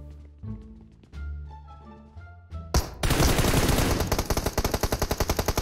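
Loud, rapid automatic gunfire from PUBG Mobile comes in close as a sustained burst of sharp repeated shots, following a moment of quieter in-game sounds.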